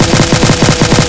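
Rapid automatic fire from a White Fang 456 rifle in a video game, a loud, tight string of evenly spaced shots rattling without pause for about a second.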